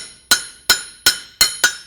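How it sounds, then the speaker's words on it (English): Hammer on hot steel at the anvil horn during a beginner forging session, five sharp ringing metallic strikes at a steady pace, each ringing briefly before the next, close and clear with no talk. "I'm gonna shape it up at the horn of the anvil using my hammer"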